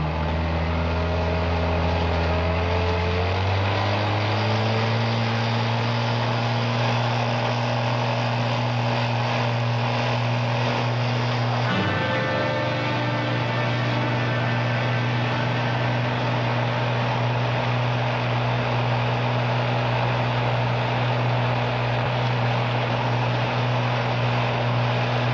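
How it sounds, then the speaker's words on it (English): A speedboat's engine drones steadily on the water at night, holding a low, continuous hum that rises in pitch early on and shifts again partway through, with no voices over it. "Does that sound like a speedboat to you?"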